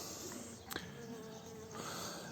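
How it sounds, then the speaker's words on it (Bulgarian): Honeybees from a swarm buzz faintly around the listener, a thin continuous insect drone with brief louder passes of individual bees close by, and no talking. "пчели долитаха от източна посока."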